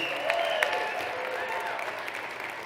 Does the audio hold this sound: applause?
yes